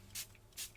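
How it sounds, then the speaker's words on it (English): Two short, soft hissing bursts of ink spray, aimed from above onto craft paper, close by and quiet, each lasting about a tenth of a second. "I'm deliberately spraying from above"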